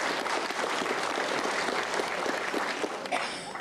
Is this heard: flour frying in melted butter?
no